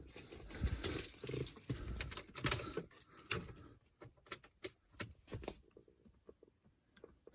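Keys jangle and clink inside a third-generation Ram truck cab during a double-DIN radio install, a busy metallic rattle for a few seconds that thins into scattered taps and then quiet.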